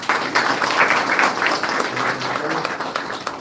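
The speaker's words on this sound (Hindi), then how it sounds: "एक जोरदार तालियां" Sustained applause from an audience at a live agricultural awareness program in India, a dense steady wash of clapping at fairly even loudness throughout.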